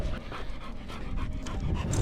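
A dog panting steadily and close by after a walk, quick rhythmic breaths running through the whole moment with no talk over it.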